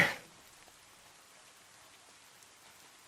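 Rain falls softly and steadily as a faint, even hiss after a brief louder burst at the start, with no talking.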